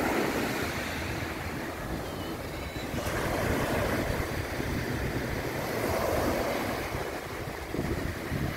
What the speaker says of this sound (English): I just want to show you these waves